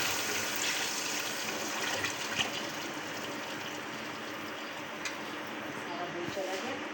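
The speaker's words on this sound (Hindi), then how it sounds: "अब बिस्मिल्लाह करके इसमें दूध डाल दें।" Milk poured into a pan of fried dry fruits while making sheer khorma, a steady liquid splash and gush running continuously for several seconds, close up with someone talking over it.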